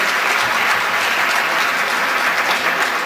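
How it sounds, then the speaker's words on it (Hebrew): Loud, dense applause from a concert audience at a live evening show, a continuous close wash of many hands clapping with no voices on top. "כל המארגנים, גברת קרן שרייבר וכל העסקנים פה, שמגיע להם הרבה מחיאות כפיים שעשו את הערב הזה"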